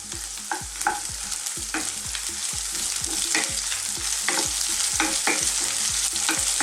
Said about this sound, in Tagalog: lulutuin lang po natin ng mga ilang minuto yung ating tinapa